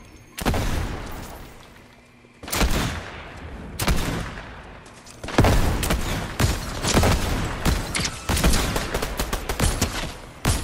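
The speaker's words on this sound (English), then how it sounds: "I'm getting shot at." Gunfire in the Fortnite video game comes in loud close bursts of rapid shots, several volleys separated by short gaps, with booming impacts and echoing tails.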